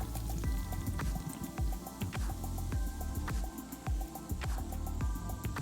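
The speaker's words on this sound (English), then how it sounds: "we are going to pour in 1 can full of club soda." Club soda glugs and splashes as it is poured from a can into cake mix for a moon pie lemon cake, with irregular wet drips and fizzy bursts up close and nobody speaking.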